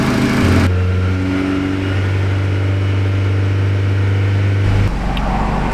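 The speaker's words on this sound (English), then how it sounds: "Accelerate to wide open throttle." A Chevy Spark engine, just fitted with a new ECM after a no-start fault, revs hard with a sustained high droning whine, then drops back abruptly near the end; close and loud, no talking.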